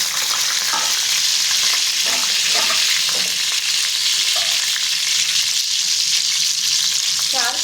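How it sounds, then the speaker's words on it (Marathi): Green chillies crackle in hot oil in a wok, a loud, continuous sizzle with light stirring scrapes throughout and no talking. "कढईमध्ये तेल घेतले ते तापलेले मस्त त्याच्यामध्ये मिरची टाकून घेते"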